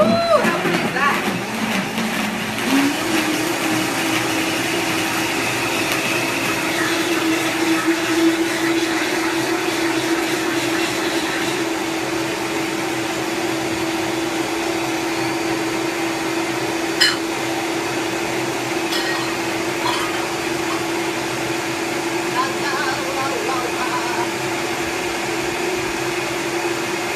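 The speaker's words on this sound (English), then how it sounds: "Gotta make sure it's on low. Blend away." A countertop blender set on low purees soup, giving a steady, loud whir that runs unbroken for the whole stretch with a faint hum beneath and a few small clicks and knocks.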